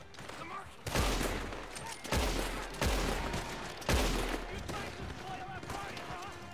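Gunfire in the video game Red Dead Redemption 2, heard as four heavy booming shots spaced about a second apart, with a dense battle din between them and players talking over it.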